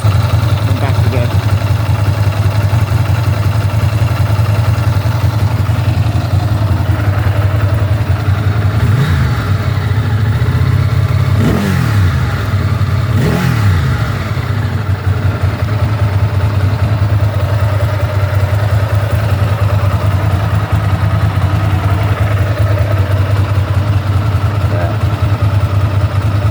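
A 1998 Ducati ST2 motorcycle idles steadily after a winter start-up, its engine a loud, even low rumble running throughout with light mechanical clatter on top.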